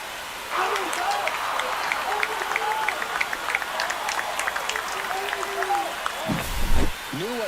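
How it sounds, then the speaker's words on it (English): Loud stadium crowd roaring and cheering in the baseball video game MLB The Show 25 after a home run in a Licey versus Aguilas matchup, a sustained dense crowd bed with whistles and shouts, swelling briefly near the end. "This crowd has really come alive. This place is loud."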